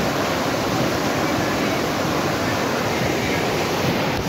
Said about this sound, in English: Show them a river.